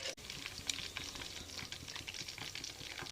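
Battered chicken pieces sizzle and crackle in hot oil, a faint, continuous frying patter with scattered pops and no talking.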